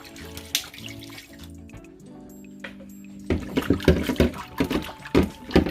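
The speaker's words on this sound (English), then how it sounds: "Now we're just going to add bottled water to rinse off the vinegar smell out of the chicken." Bottled spring water poured over raw chicken to rinse off vinegar, quiet at first, then a louder splashing, gurgling stream in the second half.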